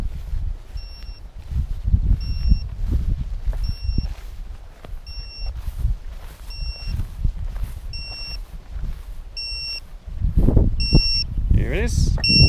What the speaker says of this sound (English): very strong beep now, even in this wind.